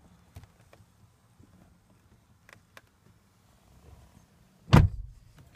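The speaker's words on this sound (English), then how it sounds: "Let me go ahead and shut the door here." Door of a 2014 Nissan Maxima shut from inside, a single solid thump near the end after a few quiet clicks and shuffles.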